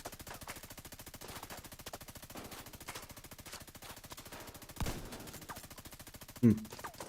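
Rapid automatic gunfire in The Division 2, a fast regular stream of shots throughout, with a couple of heavier bursts standing out near the end.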